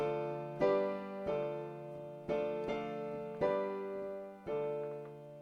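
A chord progression in the Dorian mode plays at a moderate pace. About seven chords are struck one after another, each ringing and slowly fading before the next, with no talking.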